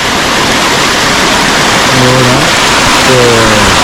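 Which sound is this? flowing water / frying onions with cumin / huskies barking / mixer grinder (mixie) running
flowing water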